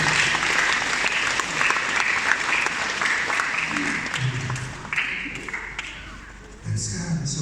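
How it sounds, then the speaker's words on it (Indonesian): A church congregation breaks into sustained applause during a Sunday service, dense clapping filling the hall for several seconds, with voices and a faint musical tone underneath as it tapers off. "Berikan tepuk tangan buat Tuhan."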